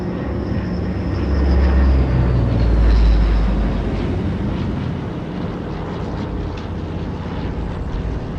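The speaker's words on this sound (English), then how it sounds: "C-130 just dropped more stuff." A C-130 transport plane drones overhead in a zombie survival game, a steady low propeller rumble that swells to its loudest around the middle and then eases back, with no talk.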